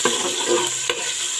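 Onions frying in a pot for jollof rice, a steady bright sizzle with a couple of soft stirring scrapes, close and continuous with no talk.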